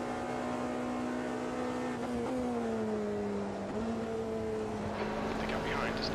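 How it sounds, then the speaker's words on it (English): LMP2 prototype race car engines in the Automobilista 2 racing game: a steady, loud engine drone holding pitch, with small dips and shifts as gears change, under continuous talking. "I love the way the LMP2 sound"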